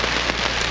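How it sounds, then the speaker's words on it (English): Heavy rain pours steadily onto a hammock camp during a Montana bear hunt, a dense, continuous hiss of drops drumming on surfaces close by, with no voices. "it has been pouring for the last 3 hours"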